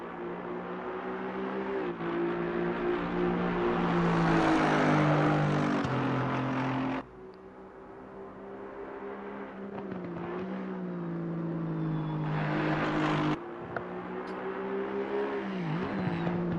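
In Assetto Corsa Competizione on PS5, a race car at the Red Bull Ring holds a loud, steady engine drone that climbs in pitch through each gear, with sharp drops at two gear changes and no talking.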